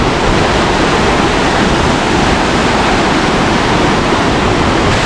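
Punnayar waterfall in Kanjikuzhi, Idukki, roaring loud and close: a dense, unbroken rush of falling water filling the whole range, steady and even throughout with no voices.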